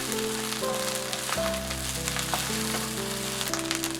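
Cantonese fried rice with spring onion stir-fried in a hot pan, giving a steady close sizzle and crackle that runs for the whole stretch beneath prominent background music.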